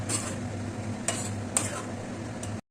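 A spoon stirring and scooping egg tarka in a pan, with a steady faint sizzle underneath and three sharp metallic scrapes against the pan, close and alone without talk.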